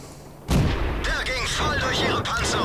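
A tank cannon firing in World of Tanks, a sudden loud boom followed by rumbling battle noise and tonal engine or effect sounds, with a voice talking over it.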